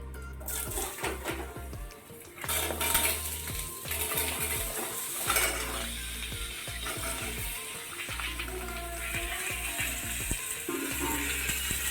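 Whole fenugreek seeds and a bay leaf fry in hot oil in a pan, giving a steady close sizzle with scattered clinks and stirring scrapes of a utensil against the pot throughout.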